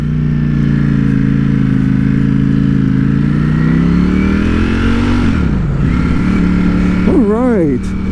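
A Ducati Streetfighter V4S, a 208-horsepower V4 motorcycle, roars loudly and steadily while being ridden, its pitch climbing smoothly before dipping and revving up and down in quick bursts near the end; someone talks over it throughout.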